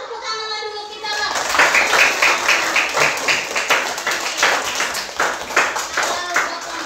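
Schoolchildren in a classroom clap their hands together in a quick, rhythmic burst of claps that continues for several seconds, close and lively, with children's voices mixed in.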